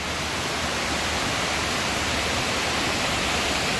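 Heavy rain pours down in a dense, continuous hiss that stays loud and even from start to finish, with no voices.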